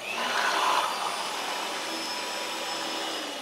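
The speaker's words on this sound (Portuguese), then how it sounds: "E com o auxílio aqui da batedeira, vou estar batendo todos esses ingredientes." An electric hand mixer beats yogurt cake ingredients in a bowl, a steady, loud, close whirring motor hum that runs unbroken throughout with a slight rise near the start.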